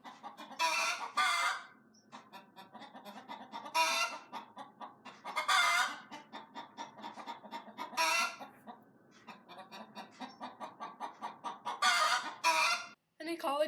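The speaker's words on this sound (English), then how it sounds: "Usually one chicken starts clucking, then another, then another." Several chickens cluck and squawk close by, bursts overlapping in a busy, repeated chorus, with a brief pause near the end.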